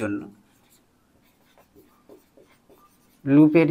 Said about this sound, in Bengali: তাই আমি লিখছি